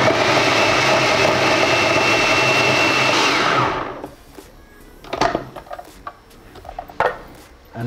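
A blender whirs steadily at low speed while mixing a piña colada, a loud continuous motor drone for about four seconds before cutting off, followed by quieter clunks and handling noises.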